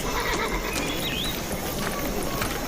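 Horses neighing and whinnying with faint hoof clip-clop in a busy, noisy outdoor scene, the calls rising briefly above steady background din.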